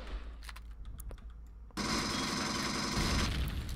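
A turret fires in the game Empyrion, starting abruptly as a loud, rapid, continuous burst of automatic gunfire that holds steady for about two seconds after a quieter stretch of scattered clicks and thuds.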